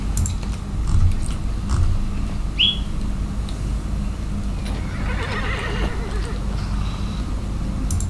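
A horse in the Skyrim video game gives a loud whinny after being summoned with a horse whistle, heard alongside a short whistle-like chirp, steady ambient game noise and faint clip-clop or chewing sounds.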